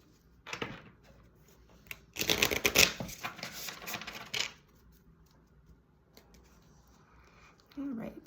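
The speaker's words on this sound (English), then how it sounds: "I dropped a bunch of cards." A deck of Wild Unknown Animal Spirit oracle cards spills and scatters in a dense flurry of papery slaps and shuffles lasting about two seconds, with a few softer card clicks before and after in a quiet room.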